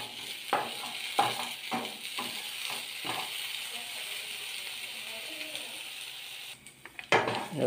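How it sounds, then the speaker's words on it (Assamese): Crushed garlic sizzling in hot oil with onions in a pan, a steady frying hiss broken by several sharp clinks and scrapes of stirring early on, then continuous sizzle, with a voice speaking over it. "ইয়াতে দুফুটা নহৰু মই পিচি থৈছিলোঁ ইয়াত দি দিছোঁ অলপ লৰাই দিম"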